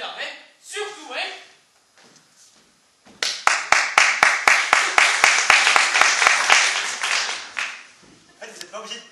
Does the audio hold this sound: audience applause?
yes